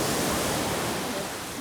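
Ocean surf rolling in at Coco Beach in Dar es Salaam, Tanzania, a dense continuous roar of breaking waves heard close and loud, alone without voices.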